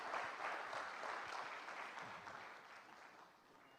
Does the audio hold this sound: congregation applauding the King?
yes